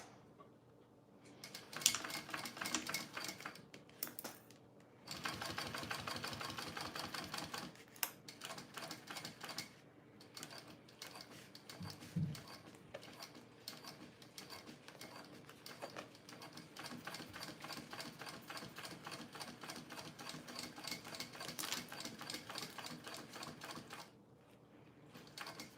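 Sewing machine top stitching a small bowler bag, running in a series of steady mechanical rattling bursts broken by brief pauses, with no talk over it.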